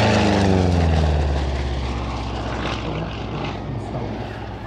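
A Republic P-47D Thunderbolt propeller fighter passes at a historical airshow. Its piston engine drones loud and close, then eases off slightly as it moves away, the sound fading a little but holding steady to the end.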